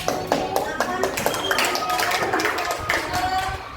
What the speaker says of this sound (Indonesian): Presentasi dari kelompok 1 sudah berikan aplaus buat kelompok 1